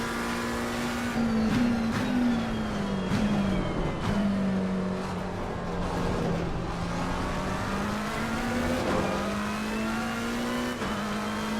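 A race car engine in Assetto Corsa Competizione on PS4 Pro drones steadily, pitch rising and falling through gear shifts and revs, loud and continuous with no talking.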